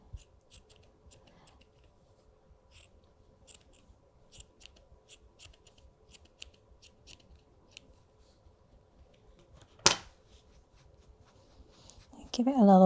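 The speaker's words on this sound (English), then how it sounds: "It's quite therapeutic hearing those scissors snip, snip away." Sharp metal scissors snip yarn while trimming a crocheted pom pom, a series of quick, crisp cuts at irregular intervals close to the microphone, with one louder snip near the end followed by rustling handling.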